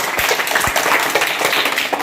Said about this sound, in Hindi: निधि के लिए जोरदार तालियां बजाइए